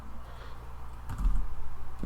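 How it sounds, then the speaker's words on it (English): Brief typing on a computer keyboard, a short cluster of close key taps coming after a quiet stretch. "Okay, so you type in"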